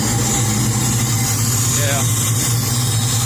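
A Chevy S10 pickup's 383 stroker engine idles while warming up, a loud, steady, close rumble with a throbbing low drone; someone says a brief word over it.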